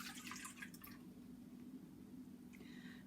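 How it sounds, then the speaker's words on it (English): Milk poured from a container into a mixing bowl while making cupcakes, a soft, steady liquid trickle and splash lasting a few seconds, close and fairly quiet with a low background hum. "I'm just going to put the milk in"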